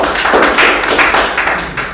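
An audience applauds itself in a classroom-style session, with a steady run of close, loud clapping and rhythmic taps over about two seconds, and no talk on top.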